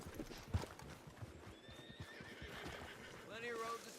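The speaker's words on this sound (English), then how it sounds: "There's my horse, by the way." A horse in Red Dead Redemption 2 whinnies near the end while steady hoof clip-clops run underneath, with someone talking over the game sounds.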